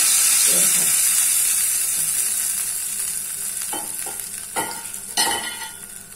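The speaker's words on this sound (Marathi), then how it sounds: "हे बघा, या फोडणीत मी हिंग घातलं आणि ही फोडणी" A Marathi phodni tempering sizzles loudly in a pan just after asafoetida goes in, a continuous close hiss that fades slowly, with a few clinks and stirs near the end.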